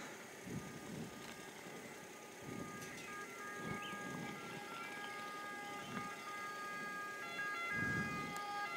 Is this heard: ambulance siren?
yes